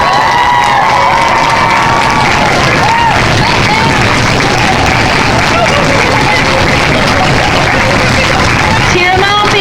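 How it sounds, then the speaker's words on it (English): Students at a school Locks of Love hair-cutting event cheer and clap, a loud continuous roar of whoops, shouts and applause filling the room from start to finish. "You got to keep cheering for this"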